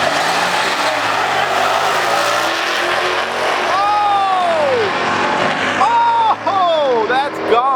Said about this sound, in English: The Mustang got a 12-9 still and blew his motor.